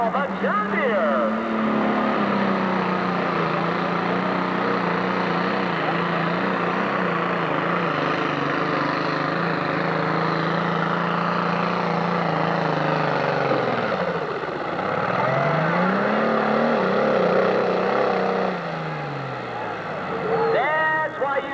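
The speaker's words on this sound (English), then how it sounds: "Throttle sticking on that pro stock tractor down there, Scott Snyder." A pro stock pulling tractor at a 1997 Urbana, Ohio 10,000 lb. pull roars with a stuck throttle, a sustained loud engine drone with pitch sweeping down and back up, while an announcer talks over it.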